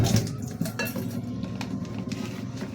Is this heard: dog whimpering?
no